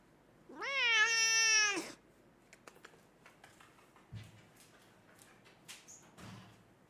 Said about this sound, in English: drive-by cat